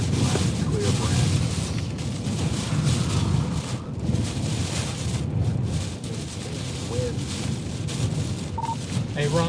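Hurricane Beryl's wind gusts roar across a high bridge, a loud, constant buffeting rush that batters the microphone throughout, while a person talks underneath.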